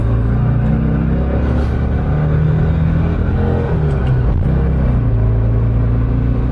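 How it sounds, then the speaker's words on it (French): A VW Golf V R32 accelerates on the road, its engine a loud, close, continuous low rumble with rising and shifting drone tones as it pulls, heard from inside without talk. "Hop, là, on va accélérer un peu, voir si ça a le power."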